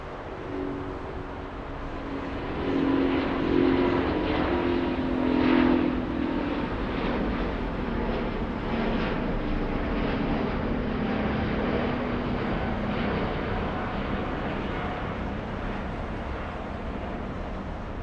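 Steady broadband roar of a LATAM Airlines Airbus A350 airliner, heard with no talk and at an even level that rises slightly early on, with low tonal hums running through.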